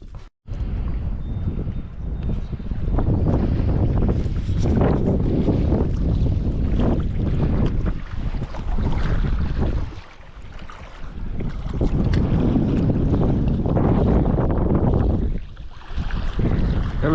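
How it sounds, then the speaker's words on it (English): Strong wind blows outdoors at a camp in Newfoundland, a loud, constant roar buffeting the microphone with gusty swells and a brief lull partway through, and no talking. "Bit of wind on."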